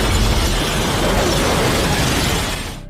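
A huge explosion rips through a train carriage in a film, a dense, roaring wall of blast and shattering debris that stays loud throughout before easing off at the very end.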